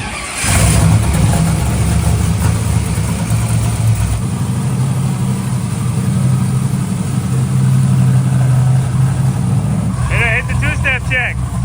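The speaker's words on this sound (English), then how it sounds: "I'm gonna hit a 2-step check over there." A twin-turbo NASCAR truck engine on a dyno drones loud and close on a 2-step launch-control check, holding a rough, steady note before a brief harsh burst near the end.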